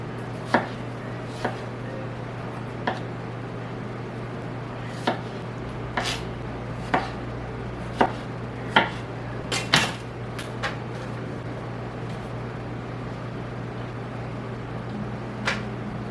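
Strawberries sliced with a knife on a board, a steady series of sharp, close taps spaced about a second apart, over a constant low hum, with no talk.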